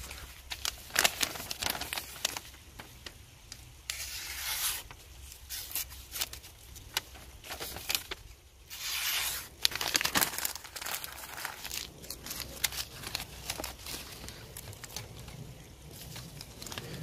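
A knife blade slicing through dry paper gives irregular crinkling, tearing rasps in short bursts with pauses between, close and fairly quiet, with no talking.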